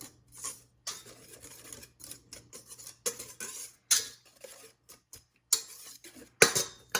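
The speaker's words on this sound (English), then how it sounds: "Stir it up. Just mix together." Cookie dough ingredients stirred by hand with a utensil in a bowl, producing intermittent close scraping and clicking strokes in uneven bursts separated by short pauses.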